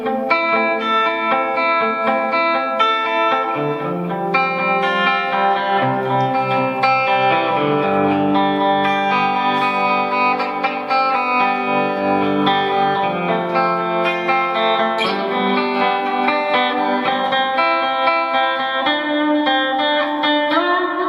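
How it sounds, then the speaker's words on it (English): An Epiphone Les Paul electric guitar played clean through delay, tremolo and reverb, with sustained chords and melodic notes washing into one another in a continuous, shimmering, loud passage with no talking. "Put some delay on, some tremolo on, some reverb."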